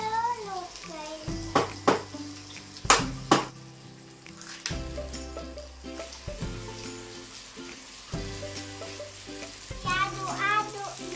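Fried rice with carrot and broccoli pulp stirred in a sizzling pan, a steady frying hiss broken by repeated scraping and clinking of a utensil against the pan, while someone talks over it.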